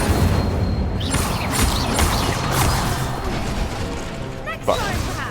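Incendio fire spell cast in Hogwarts Legacy, with loud crackling bursts and booming impacts layered over continuous game noise, plus a sharp hit near the end; a voice speaks over the action.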